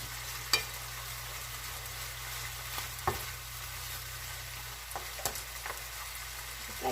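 Ingredients for Puerto Rican sancocho sauté in a pot, giving a constant low sizzle and hiss with a few scattered spoon clicks and scrapes, moderately loud and steady from start to finish.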